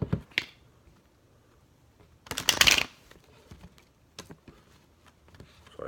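A deck of tarot cards is shuffled by hand, with a short riffle burst early and a louder, longer riffling flurry midway, plus scattered light card taps and clicks in a quiet room.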